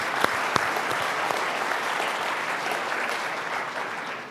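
An audience at a 2018 State of the City event applauds the school superintendent, with a dense round of clapping, a few sharper claps early on, that holds steady for about four seconds and then fades slightly.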